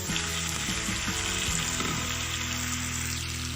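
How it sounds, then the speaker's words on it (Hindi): Half a kilo of chicken frying on high flame for karahi, a loud, dense, continuous sizzle close by, with a few brief clanks of a utensil against the pan early on. "आधा किलो चिकन डाल के हम इसको हाई फ्लेम पे ज़रा फ्राई करेंगे"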